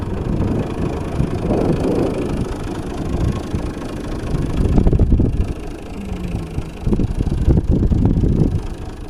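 A tractor engine pulls a new Alpler three-furrow plough through a moist fallow field with mud on the tyres, giving a steady mid-pitched drone with some wind buffeting and surges in loudness.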